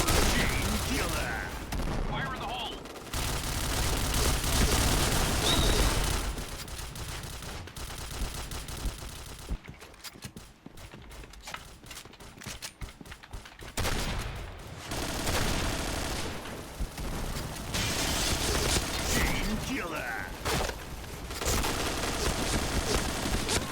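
Sustained automatic gunfire from a first-person shooter game, loud dense bursts filling most of the stretch, with a brief thinner lull in the middle before firing resumes; someone talks excitedly over it at times.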